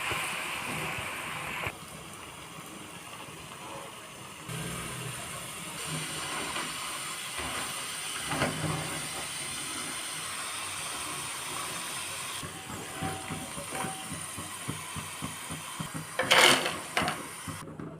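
Rice-flour-coated potato slices fry in hot oil in a wok, giving a continuous hissing sizzle that shifts in texture, with scattered small crackles and clinks toward the end.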